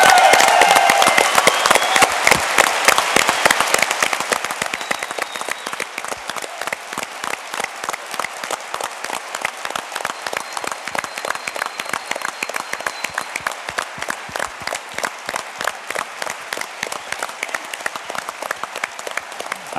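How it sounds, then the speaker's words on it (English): Loud, sustained applause from a large crowd at EVE Fanfest 2015's tournament, dense clapping that swells at first and then settles into steady, even clapping. "Let's give them another good applause."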